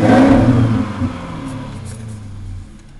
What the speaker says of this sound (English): Let's hear the engine how.